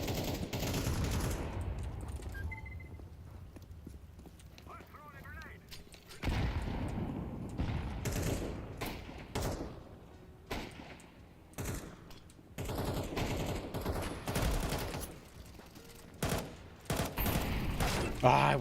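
Counter-Strike 2 gunfire comes in short automatic bursts and single shots, sharp and close, between quieter gaps, with a voice talking in stretches.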